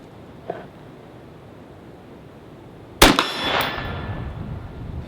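A single sharp rifle shot firing an undamaged round, loud and close, cracking out after a quiet stretch with a faint earlier click and a brief ringing tail afterward.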